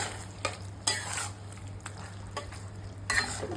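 Soy sauce poured into a pan of chilli paneer sizzling on the stove, with a steady frying hiss, a low background hum and a few sharp bursts of splatter and stirring scrapes.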